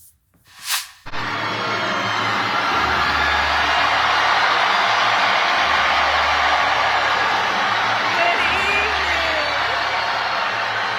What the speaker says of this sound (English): It's a big crowd, quite a reception.